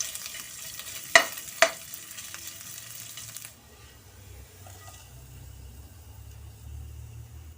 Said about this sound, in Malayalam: അപ്പം ഞാൻ കുറച്ച് ഇഞ്ചിയും കൂടി നല്ല പോലെ ഒന്ന് നെയ്യിൽ മൂപ്പിച്ച് അതിലേക്ക് ഇട്ട് കൊടുക്കുകയാണ്